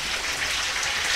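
Rain falls outside on a fishing trip by a calm sea at Robins Bay, a steady, close, hissing patter with no break across the short moment.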